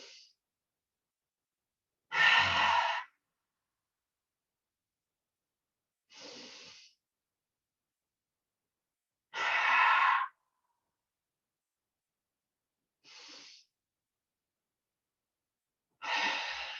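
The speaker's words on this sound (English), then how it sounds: "use your ab muscles to expel. Feel your navel curve in towards your spine as you exhale" Slow, forceful exhales during a standing stretch breathing exercise, six breathy bursts in a steady rhythm with silent pauses between, alternating longer loud outbreaths and shorter softer ones, close and alone.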